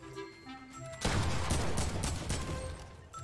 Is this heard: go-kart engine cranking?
no